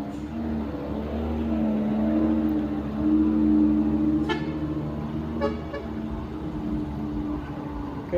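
An Isuzu truck stuck on an uphill slope revs its engine in a sustained, labouring drone while a CPO truck tows it, with short horn-like toots cutting through midway.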